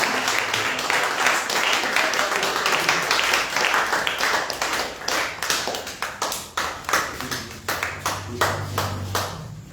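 A church congregation at an intense prayer service claps along in a steady, loud rhythm for about ten seconds, with singing or acclaiming voices underneath, the clapping thinning into sharper, separate bursts toward the end.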